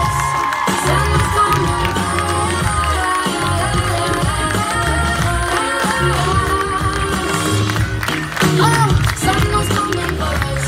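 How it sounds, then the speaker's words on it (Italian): Audience at a December 2017 dance school recital applauding and cheering for teacher and dancer Silvia: a dense, loud, unbroken wall of clapping and shouting that fills the whole stretch. "L'applauso più grande va a Silvia però!"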